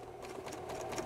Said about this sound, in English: You can tell by the steady hum of her sewing machine